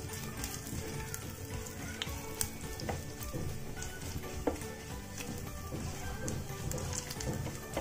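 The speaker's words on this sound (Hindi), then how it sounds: "अब हम इसको अच्छे से चला लेंगे, थोड़ा सा इसको भून लेंगे।" Fennel and carom seeds (ajwain) roast in a pan with a continuous crackling sizzle and occasional spoon scrapes and knocks, close and steady without speech.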